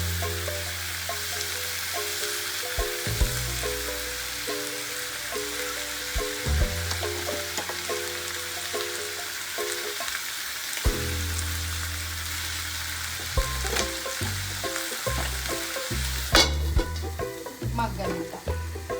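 Tamarind cooking in hot oil: steady close sizzling and bubbling frying noise with irregular stirring clatter from a utensil, continuous and even throughout, no talk.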